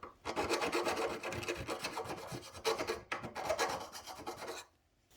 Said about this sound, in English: when you're trying to get something deburred when it's flat like that, a flat file doesn't really work as well as this curved one